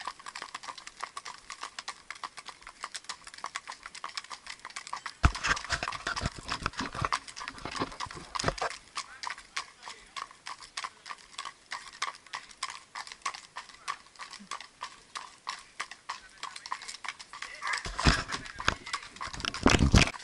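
Mérens horses walk steadily, hooves clip-clopping in an even rhythm on a hard surface, with a few louder bursts and light background noise.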